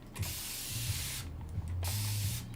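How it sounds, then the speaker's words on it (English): Spray bottle misting water onto a canvas for acrylic painting: loud, close, continuous hissing spray bursts, one long stretch followed by a brief pause and another burst, with a faint low hum beneath. "This is a cool spray bottle"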